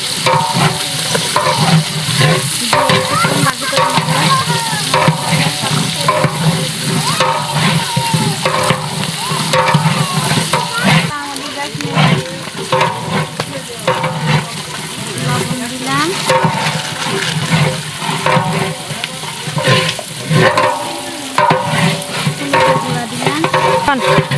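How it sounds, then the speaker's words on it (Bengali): Ginger-garlic paste sizzles and spits in a pan of browned onions while a spoon stirs it steadily for a Bengali rohu fish curry; the frying noise is dense and continuous, with faint voices or tones underneath. "আমি ভাজি করে দিয়ে দিচ্ছি আদা রসুন জাল"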